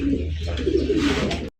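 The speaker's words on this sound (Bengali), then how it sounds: "এ গ্রেডের একজন ঝর্ণাসন কবুতর পাইতেছেন।" A caged A-grade Jharnasan pigeon coos in low, throaty, rolling notes close at hand for about a second and a half before the sound stops.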